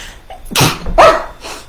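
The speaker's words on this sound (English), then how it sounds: "And then you sneeze." A single sneeze bursts out close and loud, with a short breathy gasp before it and a fainter exhale trailing after.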